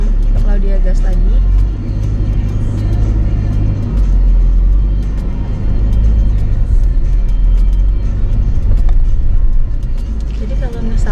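A Chery Omoda 5 GT AWD climbs an uphill road after braking, its engine a low rumbling drone that swells as it pulls away. The car is heard from inside, with people talking over it.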